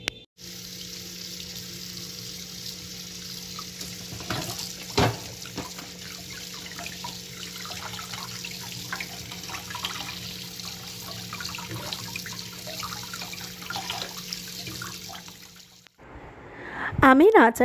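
Mangoes fallen from a tree in a storm are rinsed under a running tap for pickle, a steady close stream of water with faint splashes and handling clatter, ending in a brief louder burst.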